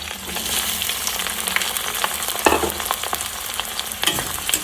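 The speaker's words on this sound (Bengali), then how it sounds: "এই সবগুলোই আমি এবার একসাথে ভালোভাবে ভেজে নেব।" Capsicum and onions fry together in a pan, a steady close sizzle with occasional stirring scrapes and no voices.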